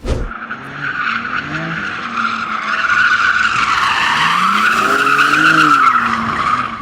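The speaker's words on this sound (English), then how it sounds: "if you want to see me driving like a complete hooligan in an M3, here you go" A BMW M3 Touring drifts hard, its tires skidding and squealing loudly and continuously over the engine's roar for several seconds, with the pitch of the squeal rising and falling as the car slides.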